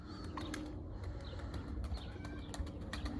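Tumbler pigeons call in a few soft coos and chirps against steady low outdoor rumble, with faint wing flutters and no talk.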